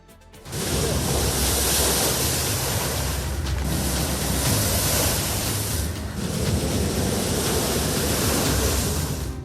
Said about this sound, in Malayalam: എറണാകുളത്ത് കടലാക്രമണം രൂക്ഷമാണ്